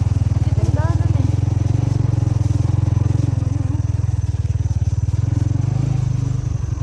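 A motorcycle engine labours steadily uphill on a mountain road near a camping spot in Montalban, Rizal, its loud, close drone running throughout under occasional talk.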